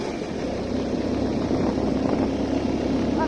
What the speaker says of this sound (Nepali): अर्को बाइक पनि आयो